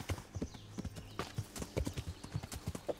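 Horse hooves clip-clop at a walking pace in Kingdom Come: Deliverance, set in medieval Bohemia, giving a steady, close rhythm of distinct hoof strikes with faint background ambience.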